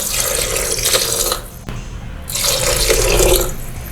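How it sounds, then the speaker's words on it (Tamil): Water poured from a cup into a biryani pot, three cups of water going in for a double beans biryani: a steady splashing, gurgling pour, a short gap, then a second sustained pour, close and clear. "இதில் நான் இப்போ இந்த கப்பால் 3 கப் தண்ணி சேர்க்க போகிறேன்."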